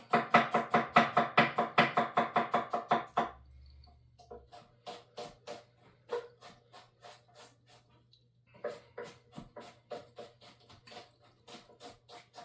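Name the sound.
chopping garlic and ginger root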